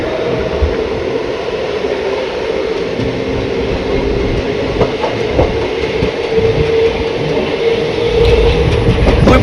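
The Kannur–Shoranur MEMU train runs steadily with a continuous rumble and faint rail clatter, heard from close by, loud and unbroken, with no talking.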